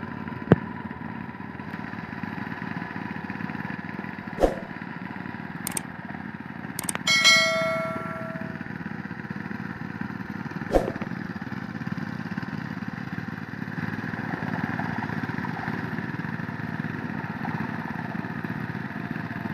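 Two outboard engines drive three linked boats loaded with sand, running in a steady continuous drone throughout, with a few sharp clanks and knocks over the engine noise.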